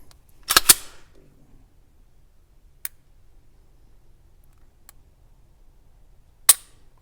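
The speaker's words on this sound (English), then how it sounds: "Again, the flat trigger, we'll give that a pull." Dry trigger pull on a Smith & Wesson M&P 10mm 2.0 pistol with a flat trigger: a close pair of sharp metallic clicks, then isolated faint ticks and one more crisp click near the end, with no talking.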